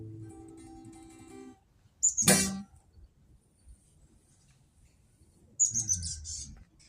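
A bird lets out two short bursts of chirping, a few seconds apart, over a quiet background.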